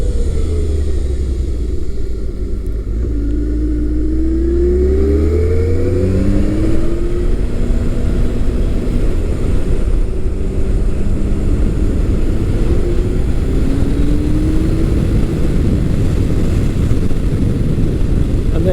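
A 2008 Kawasaki Concours 1400 motorcycle rides along, its engine droning loudly beneath heavy wind rush, with rising revs sweeping upward several times as it accelerates.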